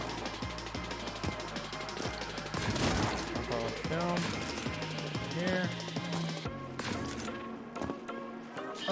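Rapid gunfire from snipers in the fast-paced shooter Neon White, repeated sharp shots and mechanical clatter under a driving music track, ending with a sudden drop toward quiet.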